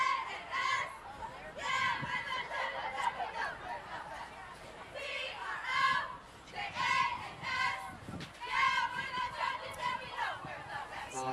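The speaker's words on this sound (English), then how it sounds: "They're going to give us a little cheer." High school cheerleaders perform a cheer at a fall festival parade, their young voices shouting in rhythmic bursts amid crowd chatter outdoors.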